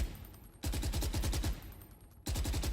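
A suppressed gun in the video game VALORANT fires in two rapid bursts of muffled, evenly spaced shots, loud and close, with a short pause between them.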